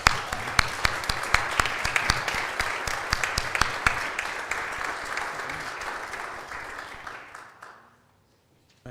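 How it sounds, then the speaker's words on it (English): An audience at a church annual meeting breaks into applause, a lively burst of many individual claps close by that gradually thins and fades out into silence near the end. "So I'd like the minutes to show that we give them a round of applause."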